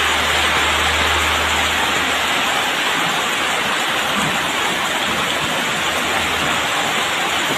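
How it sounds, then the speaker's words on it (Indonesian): Heavy rain pours down in a loud, dense, unbroken hiss for several seconds, with a low rumble at the start and no voices. "Nah, hujan bro."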